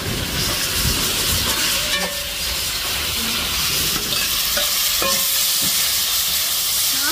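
Leeks stir-frying in a hot pan for pan kottu, a steady loud sizzle with scraping and clinking of the utensil against the pan, no voices.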